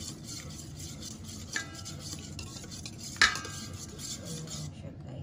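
Milk being stirred in a pan while making ube cheese mamon gives a quiet, steady scraping, with a couple of brief metallic clinks from the spoon against the pan.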